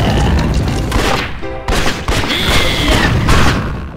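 Gunshots in the video game Red Dead Revolver come as loud, dense, overlapping bursts of rapid fire across the whole stretch, with several heavier booms, close and continuous.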